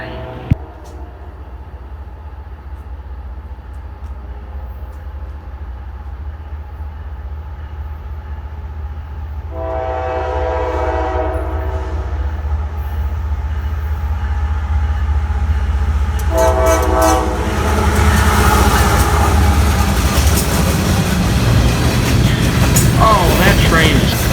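A long freight train carrying trash rumbles past steadily in Selma with a deep continuous drone, a horn sounding twice as the noise grows louder and fuller.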